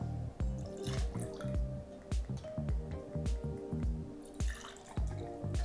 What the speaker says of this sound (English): Pour it right in your beer glass.